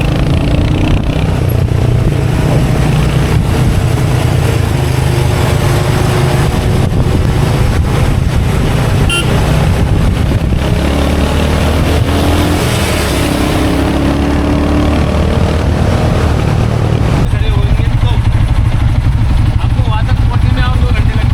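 Heavy road traffic with cars and motorcycles near Bhimashankar, a continuous engine rumble with buffeting wind noise, heard up close from a moving vehicle while people talk throughout.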